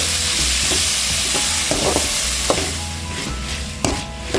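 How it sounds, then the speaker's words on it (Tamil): Tomatoes sautéing in a pan for Kerala kadala curry make a loud, continuous close-up sizzle, with occasional sharp clicks of a spoon stirring against the pan. "தக்காளி நல்லா வதங்கிட்டு"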